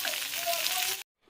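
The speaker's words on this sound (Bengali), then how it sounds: "তো বেগুনটাকে আগে ভেজে তুলে রাখছি" Eggplant (brinjal) slices frying in hot oil in a pan give a steady, close hiss of sizzling for about a second before cutting off abruptly.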